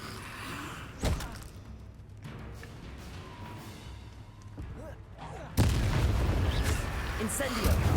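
Incendio fire spell cast in a Harry Potter game: a short thump early on, a quieter lull, then a loud sustained roaring whoosh of flame that carries to the end.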